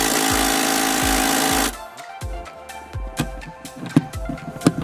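An impact gun removes the bolts of a racing seat in a Subaru STI, giving a loud continuous rattling hammer burst that stops abruptly, followed by quieter clicks, clanks and tool handling.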